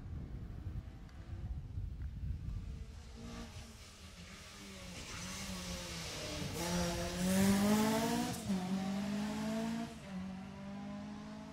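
A BMW E30 rally car on a Jersey Rally stage approaches from a distance, its engine rising to a loud, high-revving peak as it passes close, then fading away through gear changes, with wind buffeting the microphone.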